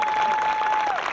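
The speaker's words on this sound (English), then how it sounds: "let's give her a big round of applause." Audience applause at a high school senior salute ceremony, a steady dense wash of clapping filling the short moment with a faint tone running beneath.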